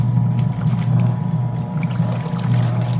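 A washing machine powered through a 24V 1000-watt toroidal solar inverter, loaded with dirty clothes, gives off a steady low hum with a continuous churning drone that holds even and fairly loud throughout, with no voices.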